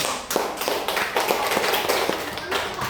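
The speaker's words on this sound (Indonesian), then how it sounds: "Tepuk tangan dulu." Children in a classroom clap their hands together, a rapid run of sharp claps that lasts a few seconds, mixed with the voices of people talking.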